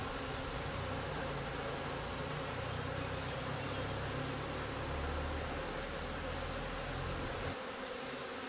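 A dense, steady buzz of many honey bees swarming around a hive, close and continuous with no pauses.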